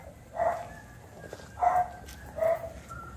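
Dogs bark near a cemetery in Candelária, Rondônia, in the Madeira valley: three separate barks spaced about a second apart, moderately near and clear against a quiet background.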